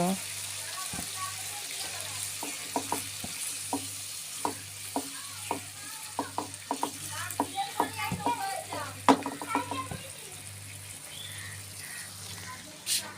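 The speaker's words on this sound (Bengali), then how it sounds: "এখন আমি যেটা করব সেটা একটু নারকেলের দুধ ডুমুরের ভিতর দিয়ে আমি এটা একটু ভালো করে কষিয়ে নেব" Figs cooking in coconut milk in a pan give a soft sizzle, with a spoon clicking against the pan again and again as the mixture is stirred.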